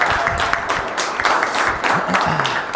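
Audience clapping at a day-trading seminar as the next presenter takes the stage, a dense round of applause with scattered voices and calls mixed in.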